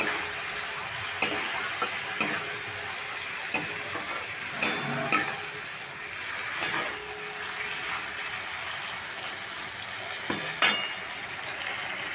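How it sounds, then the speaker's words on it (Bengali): Ground spices with turmeric being stirred and fried in a pan, a quiet steady sizzle broken by scattered clicks and scrapes of a spoon on the pan. "এবার মশলাগুলো আমি খুব ভালো করে নেড়ে কষিয়ে নেব"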